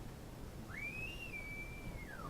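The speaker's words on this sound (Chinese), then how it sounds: "吹口哨。 对，吹口哨。" A recorded whistle plays through computer speakers, a single sustained tone that rises, holds steady, then slides downward, clear against a quiet room hiss.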